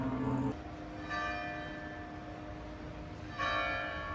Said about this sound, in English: The cathedral bells are ringing.